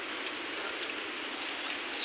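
Heavy monsoon rain pours down in Malvan, Sindhudurg, in the Konkan, a steady dense hiss of falling water with no break, close and even throughout.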